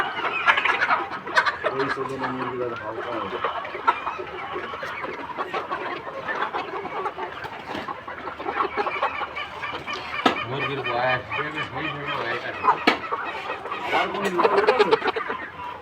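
Chickens cluck and squawk in a busy, overlapping chorus throughout, with other poultry calls mixed in and some voices in the background.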